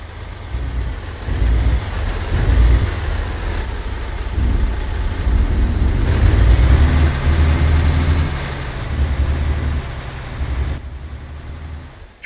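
A truck in American Truck Simulator reverses with a steady, loud engine drone at low revs, holding a continuous rumble throughout with no voices.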